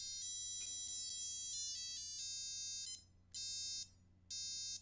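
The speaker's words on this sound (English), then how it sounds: "And then you have your standard alarm, of course." Standard alarm tone of a SENDIS 4W LED table lamp with calendar, a bright electronic melody of rapid high beeps that plays continuously, then repeats in two short bursts separated by brief pauses, alone and clear.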